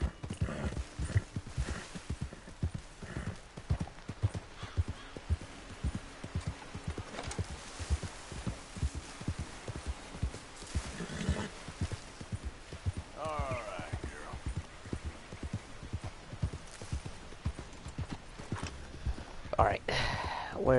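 Steady rhythmic hoofbeats clip-clopping throughout from a horse walking at an even pace in the video game Red Dead Redemption 2, with a voice talking over it now and then.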